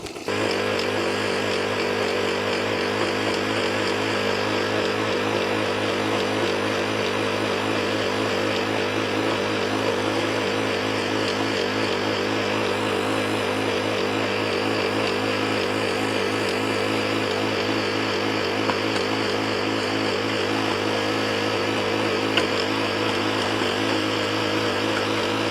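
A Mantis mini tiller engine runs continuously with a steady, buzzing drone, loud and close throughout, with no talk over it.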